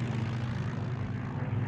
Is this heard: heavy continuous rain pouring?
no